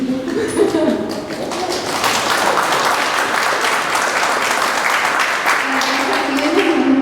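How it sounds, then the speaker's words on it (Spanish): Applause from an audience at a book presentation, building into a steady dense patter of clapping with some faint voices underneath. "Creo que de repente quieren aplaudirme."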